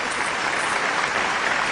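Steady, dense applause from an audience at a Hindi poetry gathering fills the whole stretch, broad and even with no pauses and no voices on top.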